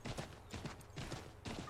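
A horse gallops in Assassin's Creed 3, with steady rhythmic hoofbeats in quick repeating clusters, loud and close.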